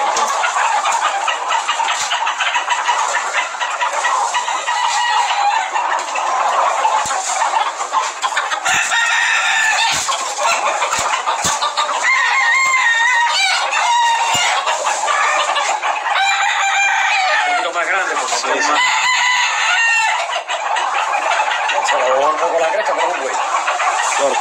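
A rooster crows loudly and close, with clucking and other fowl calls around it in a farmyard, while people talk over the birds.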